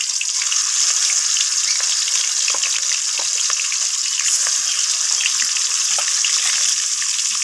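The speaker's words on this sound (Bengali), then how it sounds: "এখন আমি এক এক করে মাছগুলোকে তেলের মধ্যে ছেড়ে দিচ্ছি।" Rohu fish pieces fry in hot oil. A loud, close, continuous hiss is dotted with fine crackles and spits, and nobody speaks.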